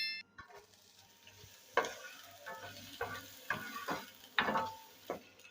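A medium onion, finely chopped, fries in hot oil in a pan with a soft sizzle, broken by a series of scraping stirs from a spoon at irregular intervals, close and fairly quiet.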